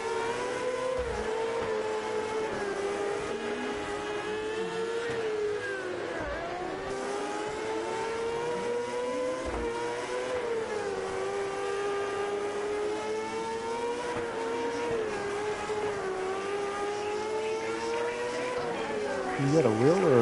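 Dirt racing cars in the World of Outlaws Dirt Racing 24 game on PS5 drone continuously, high engines whining and shifting pitch as they rev up and down through the whole stretch at an even, loud level.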